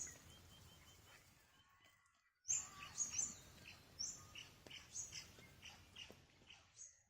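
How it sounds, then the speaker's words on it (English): Choughs that have just flown in call in a run of high, squeaky chirps. The calls come in quick bursts at irregular intervals, fairly clear and moderately near over a soft outdoor background. "The chuffs have just flown in."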